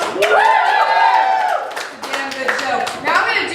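A comedy club audience claps and cheers for a stand-up comedian, a brief loud burst of applause while a voice talks over it and the clapping tapers.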